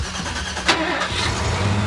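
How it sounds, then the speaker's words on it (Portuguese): A car engine at a garage cranks and catches, then settles into a loud, steady low roar that fills the short clip, close by with no talk over it. "quando o motor pegou, parecia um monstro. O ronco foi forte"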